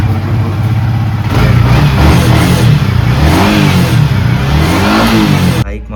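A motorcycle engine runs close by with a steady throb, then is revved a few times, the pitch rising and falling, before cutting off abruptly near the end.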